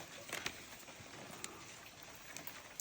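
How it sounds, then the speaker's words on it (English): Rain falls outdoors in a continuous light patter, with occasional closer drop taps. "And I also love the sound of the rain."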